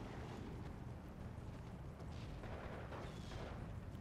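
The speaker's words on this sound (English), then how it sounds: "Tons of mortars down south now trying to get involved." Mortars fire in the Steel Division 2 video game on the Orsha East map as a dense, distant rumble of repeated muffled thuds. It is a faint, continuous battlefield din.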